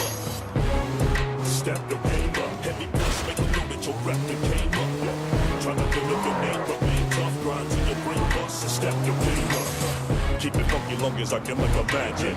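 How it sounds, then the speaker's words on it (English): Player-driven car in the open-world video game Sleeping Dogs, a United Front vehicle heading the wrong way, with a steady engine drone and shifting revs, tire noise and busy game audio continuing loudly throughout. "So here I am driving and then promptly going the wrong way in my United Front's vehicle"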